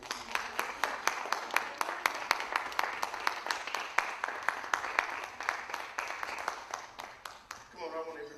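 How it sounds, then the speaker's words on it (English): A church congregation claps hands in praise during a morning service, with rapid, steady clapping throughout, close and fairly loud, and voices calling out beneath it toward the end. "Let's give the Lord a big hand clap of praise."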